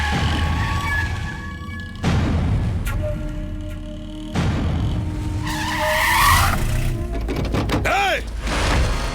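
A car skids and squeals its tires as it whips around in an action movie chase scene. Several loud bursts overlap with shouting voices and music, ending with rising tonal swoops.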